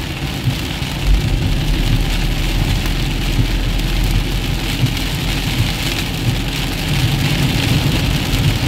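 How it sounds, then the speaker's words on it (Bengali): Loud, dense downpour of heavy rain hitting a street in Kolkata, a constant roaring wash with a low rumble beneath it and no voices. "এই যে বৃষ্টির আওয়াজটা হচ্ছে না,"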